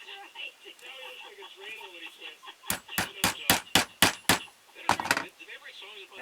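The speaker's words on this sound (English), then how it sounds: "we're going to take a punch and we're going to put a hole right in here" A hammer strikes a punch into a wooden ventriloquist dummy to mark its center, seven sharp rapid blows in a row followed by two more after a pause, loud and close over a quiet background.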